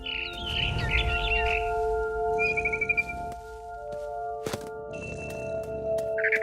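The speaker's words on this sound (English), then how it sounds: "Then I heard chirping outside my window. It was a barn swallow going back to her nest." Electronic barn swallow chirps in the game What Remains of Edith Finch, thin and tonal, come in short bursts over a steady synthetic hum, with a few sharp clicks and a gap of near-silence.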